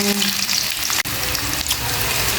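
Garlic frying in hot oil in a kawali, a loud, dense, crackling sizzle throughout, broken by one sharp momentary knock.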